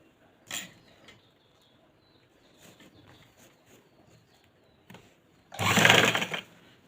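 A sewing machine stitches piping onto the neckline of a suit, working through the fabric in one loud, close burst of about a second near the end, after quiet handling noises.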